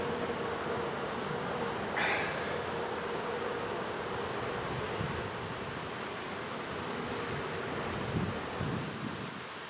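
Honeybees swarm loudly around a hive opened for inspection, a dense steady buzz of fanning workers with a wash of outdoor noise and no talk.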